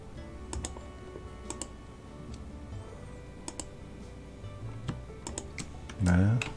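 Keys pressed on a computer keyboard during 3D modeling work in Cinema 4D: a few separate clicks spaced apart, close and crisp, then a short spoken word at the end.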